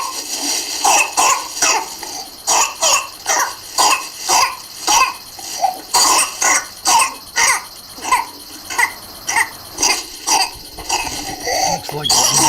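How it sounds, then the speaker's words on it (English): A child coughs in a long run of harsh, repeated bursts at a fairly regular pace, close and loud, with strained gasping breaths between fits and a few voices faintly in the background. "Cough, cough, cough, cough, and then gasping for air."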